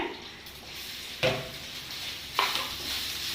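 Food being sautéed in a pan for a home-style Tamil dish, a faint steady sizzle with two sharp stirring scrapes of a spoon against the pan, no voices.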